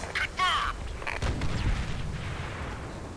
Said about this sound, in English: now we just gotta wait for the artillery to come back in